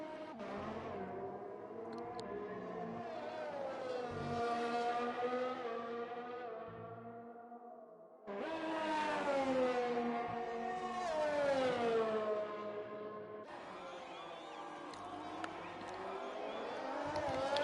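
A Formula 2 race car engine in a PS4 racing game at Abu Dhabi on a flying lap, its high whine rising in pitch through the gears, dropping, then climbing again. Loud and continuous, with a crowd-like hum underneath.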